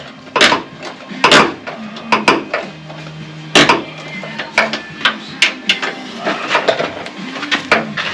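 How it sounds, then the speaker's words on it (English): A wrench loosening the door check strap bolts on a 2002 Ford F350 truck: irregular sharp metallic clinks and taps, some in quick pairs, close by and without speech. "take 2 bolts out of the check strap"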